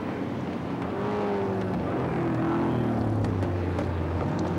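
Touring race cars at Sandown circuit in 1977 roar past on the straight, a continuous engine drone with shifting pitch from several cars, moderately distant, with no voices.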